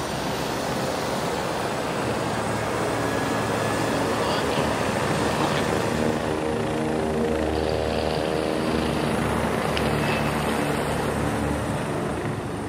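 Rescue helicopter lifting off on a mountain ski slope, a loud steady rotor and turbine roar filling the whole clip with rhythmic blade thumping, close by and constant throughout.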